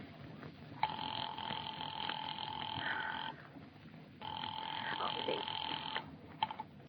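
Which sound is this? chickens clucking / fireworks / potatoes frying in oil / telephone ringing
telephone ringing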